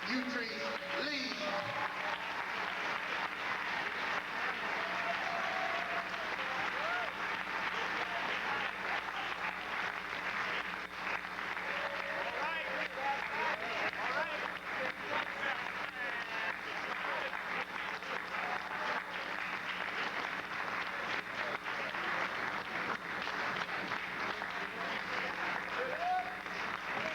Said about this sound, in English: give a warm round of applause to our sister, Utrice Leid